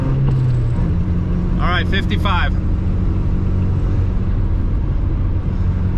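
An old, slow 4WD truck of about 70 horsepower gathers speed toward 55 mph. Its engine and road noise make a loud, steady drone throughout, while someone briefly speaks over it.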